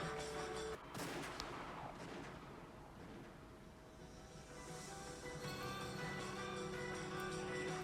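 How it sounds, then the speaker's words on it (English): Gunfire from the Umineko visual novel game, a loud crisp burst near the start amid a dense, noisy game soundscape that stays loud throughout. "They certainly heard the crisp sound of gunfire ring out at once."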